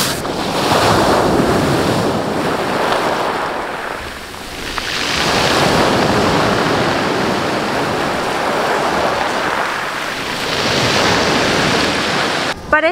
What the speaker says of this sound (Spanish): en las piedras con las olas suena como ASMR